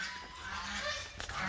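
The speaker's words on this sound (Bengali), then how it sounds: "ওই যে হাঁস আসতেছে" Ducks on a farm give a brief honking call against steady outdoor background noise, with no talk.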